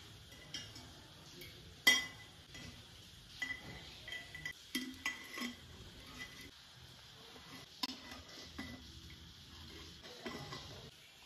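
Bhut jolokia pickle spooned into a glass bottle, with scattered clinks and taps of a spoon against glass and soft scraping and pressing sounds, fairly quiet and close.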